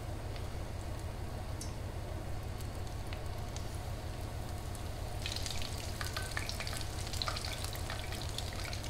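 Battered pieces drop into hot oil and fry with a steady, loud hiss and sizzle up close, the crackle brightening partway through, with no voices.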